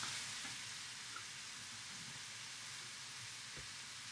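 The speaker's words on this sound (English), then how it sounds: "Let's stir this up." Jalapeno chicken and bacon sizzle steadily in a frying pan, a soft even hiss that fills the space, with a couple of faint utensil clinks as the stir fry is stirred.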